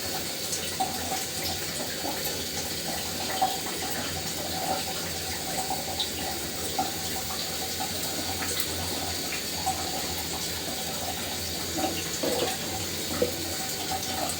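A pot of lentil and potato dal boils on the stove, giving a steady low bubbling hiss with occasional small pops, continuous and fairly close, with no talking.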